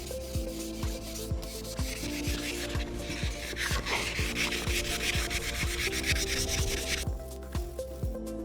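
Wet sanding scuffs out of crash-damaged Lamborghini carbon fiber, a steady close rasping rub with rhythmic back-and-forth strokes throughout, no voices.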